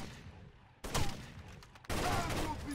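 Gunfire in Rainbow Six: Vegas 2 Terrorist Hunt, with two sudden loud bursts of shots and clattering impacts over a low ambient background, close and sharp, no clear talking.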